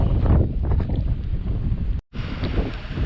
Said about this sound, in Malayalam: മഴയും കാറ്റും എല്ലാം കൂടി വന്നിട്ടുണ്ട്